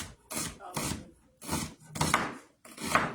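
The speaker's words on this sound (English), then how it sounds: "And you can cut your onions as big or as small as you want." Onions are chopped with a knife on a cutting board for vegetarian chili, giving five or six separate, crisp cuts at an uneven pace, close and fairly quiet, with no voices.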